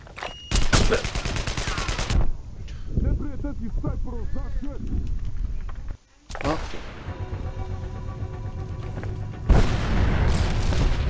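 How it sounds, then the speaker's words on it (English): Mortar shelling and gunfire in the shooter game Sniper: Ghost Warrior 2, heavy booms and rattling bursts of fire loud and close, with a brief cut and further blasts, over game ambience and shouted voices. "Serbs appear to be shelling the buildings at random."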